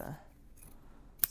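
Scissors trim fabric for a Japanese-fabric drawstring bag, giving one crisp snip near the end of a short, quiet moment after faint murmuring.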